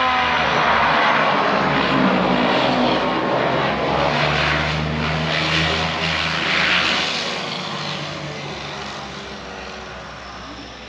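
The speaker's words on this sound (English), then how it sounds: "Here comes our plane." A propeller airplane arrives at the Banda Neira airstrip on the Banda Islands, its engine drone loud and steady at first, then slowly fading as it passes.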